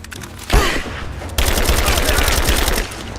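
Automatic gunfire from cover fire in the video game Rise of the Tomb Raider: a loud burst begins suddenly, then a second sustained, dense barrage of rapid shots rattles on for about two seconds before easing off.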